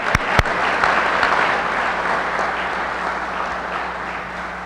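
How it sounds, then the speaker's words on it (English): An audience applauds at a press conference, steady dense clapping that fills the space at close to moderate distance, with a couple of sharp louder claps at the start, gradually easing without any talk over it. "Round of applause."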